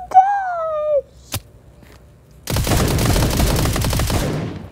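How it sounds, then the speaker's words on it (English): Rapid SMG spray in a Fortnite-style Bedwars video game, a loud dense burst of automatic fire lasting about two seconds after a brief electronic tone and a single sharp click. "He just sprayed with SMG"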